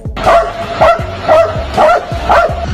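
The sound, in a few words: dog barking at another dog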